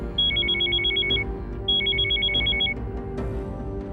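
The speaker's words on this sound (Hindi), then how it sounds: "फोन क्यों नहीं उठा रहा?" A telephone rings in two clear bursts of rapid warbling electronic tones separated by a short pause, fairly close and alone over a faint background.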